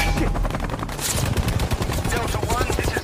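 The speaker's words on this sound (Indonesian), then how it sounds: "Mereka mendapat sambutan tembakan secara frontal dari Vietcong di dalam hutan." Dense bursts of automatic gunfire from a Vietnam War jungle battle in a war film, with rapid overlapping shots and heavy low booms filling the scene continuously.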